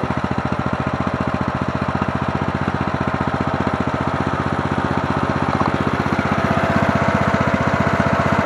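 A Murray Select riding lawn mower with a 17.5hp engine and 42-inch deck idles smoothly, a steady close mechanical putter with an even rapid pulse and no talk.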